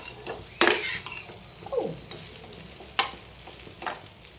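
Rice being stirred in a pan, a spoon scraping and knocking against the metal in several loud strokes over a faint steady sizzle, with no talking.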